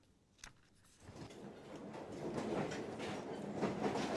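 A Kampala Railway commuter train rolls past, building from faint to a steady rumble with rhythmic wheel clatter growing louder and nearer, and no voices.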